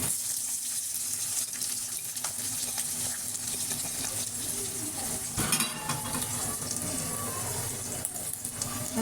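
Browned onions and spices frying together in a pot for mutton biryani, a steady broadband sizzle with occasional stirring scrapes, close and fairly loud throughout with no talking.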